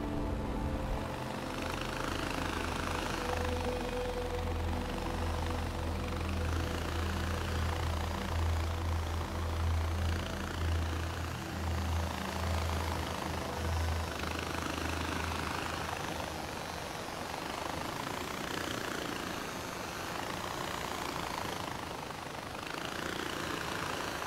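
Helicopter in the video game Far Cry 4, a steady droning engine and rotor hum that holds level in the foreground for most of the stretch before its low tone fades and a rougher wash continues.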